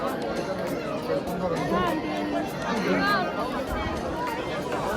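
A busy crowd at a temple in Hampi fills the air with steady, overlapping chatter, a close, constant murmur of many voices without pause.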